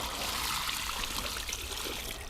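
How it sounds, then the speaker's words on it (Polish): Water poured over a freshly caught fish at a Lithuanian lakeside, a steady close trickle and splash running continuously without pause, no talk. "Teraz jeszcze tylko polejemy troszeczkę wodą"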